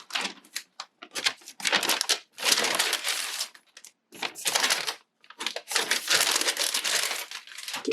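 A paper bag is crinkled and crumpled up close in bursts of crisp, loud rustling separated by short pauses, with no talking.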